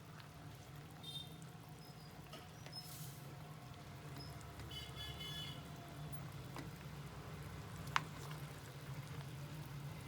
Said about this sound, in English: Then you will see that these little bubbles will appear. You have to heat it for 15 to 20 minutes at low flame.